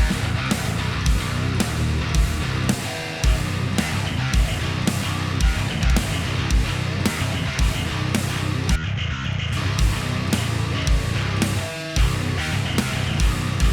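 A distorted djent bass guitar played through the Torus bass VST plugin chugs in dense, loud, rhythmic palm-muted riffs with tight staccato stops and a heavy low end, playing alone without talk.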